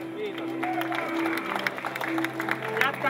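A crowd applauds the winning men's team at a podium ceremony, steady clapping under a loud announcer's voice and a low musical hum.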